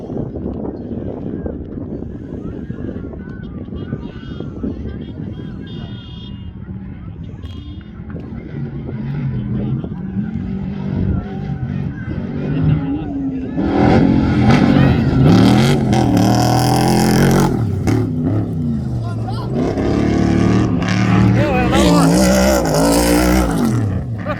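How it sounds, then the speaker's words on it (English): A loud trophy truck roars past close by during the Finke Desert Race, its engine growling and rising, with wind buffeting the microphone and some voices underneath. "it sounds like there's a trophy truck coming"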